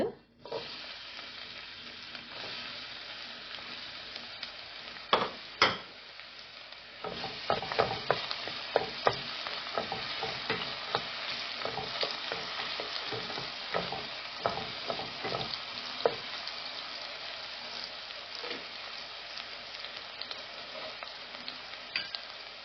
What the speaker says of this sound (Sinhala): ඊට පස්සේ ඒක යන්තම් බැදීගෙන එනකොට මම මේකට එකතු කරගන්න මේ කපා ගත්ත ලුණු ටික.